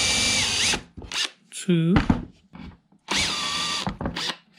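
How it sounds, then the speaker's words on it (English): A power drill spins a Forstner bit back into holes to deburr them while fitting wardrobe drawer fronts, in several short, loud whirring bursts separated by pauses, with a brief count spoken between. "Put the Forstner bit back in the hole."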